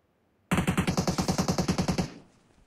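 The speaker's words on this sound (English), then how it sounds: "The AUG literally has no recoil." An AUG rifle fires in PUBG Mobile, a single sustained burst of about sixteen rapid, evenly spaced shots lasting roughly a second and a half, loud and close, then a short fading tail.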